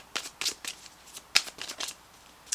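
Tarot cards shuffled by hand in short bursts of crisp riffling and slapping, several quick flurries separated by brief pauses, close and clear in a quiet room.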